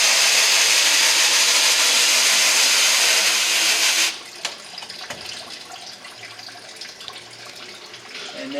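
A hose sprays water to rinse soft emulsion off a screen printing screen, a loud steady hiss for about four seconds that cuts off abruptly, leaving faint clicks and handling noise.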